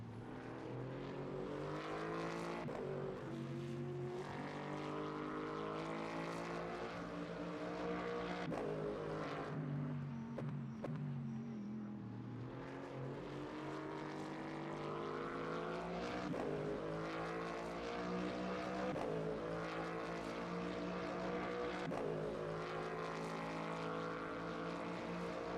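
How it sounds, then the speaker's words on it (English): A steady, droning racing car engine from the video game Le Mans Ultimate hums continuously at fairly constant pitch, with slight rises and falls, distant and uninterrupted. "the car sounds good outside too."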